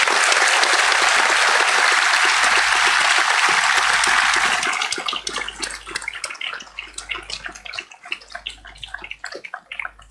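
A school audience claps to welcome a guest speaker, loud dense applause at first that thins into scattered individual claps.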